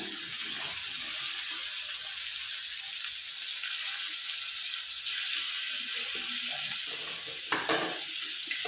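Chopped chicken hits a pan with chopped chillies, giving a steady, close hissing sizzle that runs throughout with a few sharper crackles and a brief clatter near the end.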